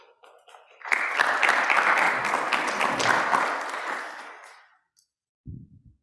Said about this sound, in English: the loud applause in the room